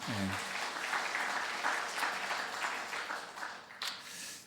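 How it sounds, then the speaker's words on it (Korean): A church congregation claps in encouragement during an afternoon worship service, a dense, steady round of applause that starts at once and tapers slightly toward the end, with a brief voice at the very start. "우리 수고하신 권사님들에서 격려의 박수 한번 보내겠습니다."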